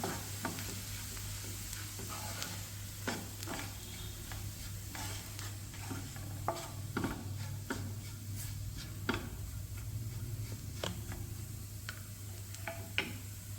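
Coriander, chili and turmeric powders are stirred in a hot pan while making a radish curry. A spoon scrapes and taps the pan in irregular clicks over a low, constant sizzle.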